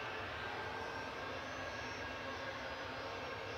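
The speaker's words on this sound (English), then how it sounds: "TUI departing to Rios here with flight 2652" A TUI jet airliner departs Manchester Airport, its engines making a steady, moderately distant roar that holds level throughout with no talk.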